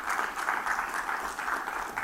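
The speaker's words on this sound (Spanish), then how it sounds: "dale palmas al Señor, dele gracias" A church congregation applauds for the Lord, a soft, distant, steady patter of many hands that holds evenly for about two seconds.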